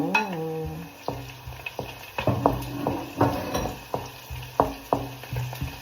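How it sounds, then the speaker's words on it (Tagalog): Chili frying in a hot pan, a crackling sizzle broken by repeated clacks and scrapes of a spatula stirring, irregular and close, with a brief pan clank at the start. "So, next, gigisa ko din ang sili."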